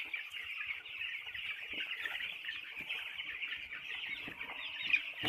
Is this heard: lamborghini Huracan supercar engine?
no